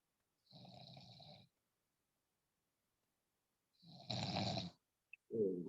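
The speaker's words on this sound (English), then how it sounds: "Did I just hear snoring?" A person snoring while asleep during a technical analysis class, two faint drawn-out rasping snores separated by a pause, then a short snort, distant and quiet.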